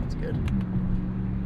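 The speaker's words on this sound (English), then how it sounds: "Listen to that V8 Tundra. That sounds good." A Toyota Tundra V8 engine rumbles steadily nearby, heard from inside a passenger car as a low, continuous drone with a faint voice-like murmur over it.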